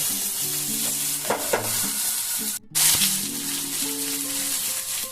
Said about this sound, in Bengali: আলু দিয়ে একটুখানি নুন দিয়ে আমি এটাকে চাপা দিয়ে দিয়ে ঢাকা দিয়ে দিয়ে ভেজে নেব